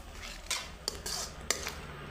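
A spoon stirs spinach puree with water in a bowl for palak paneer, making a few quiet clinks and scrapes against the bowl over a soft background.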